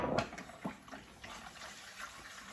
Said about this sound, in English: I'm gonna start with some hot water, just tiny bit,